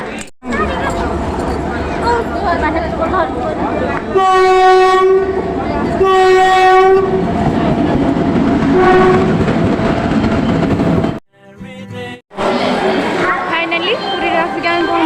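A train pulls into a station on a trip to Puri, its loud horn sounding in two long blasts over steady rolling rumble, with voices and platform bustle around it.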